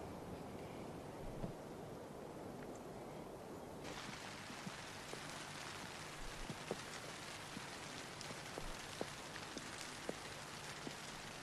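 Steady rain around 10 pm at a border barrier system near Großtöpfer, a dense constant hiss of falling drops with scattered closer patters, growing fuller partway through.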